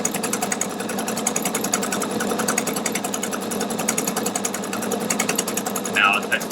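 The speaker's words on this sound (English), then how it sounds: "So I'm going to rotate this fabric and start sewing so you can see how it does a nice mitered corner." A Pfaff Quilt Expression 720 sewing machine stitches a mitered corner in fabric, giving a fast, even mechanical whirr that runs steadily and close throughout, with a brief beep near the end.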